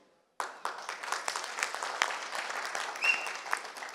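Audience applause at a pre-release event for the Harikatha web series, bursting in suddenly and holding as dense, steady clapping from a large crowd, close and fairly loud with no talking over it.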